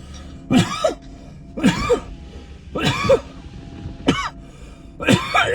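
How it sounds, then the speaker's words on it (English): A person coughs hard in five separate bursts spaced about a second apart, each a harsh, throaty hack, close and alone without speech. "I haven't coughed like this in a minute"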